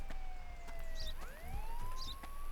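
Police car siren in the video game Contraband Police, a wailing tone sweeping down then rising again in two cycles over a low engine-like hum, fairly quiet and alone without speech.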